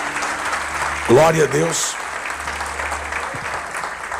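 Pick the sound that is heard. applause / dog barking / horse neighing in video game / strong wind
applause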